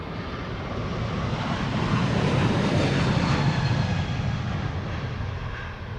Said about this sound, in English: This is the second JetBlue of the show. Flight 62289, another A320neo.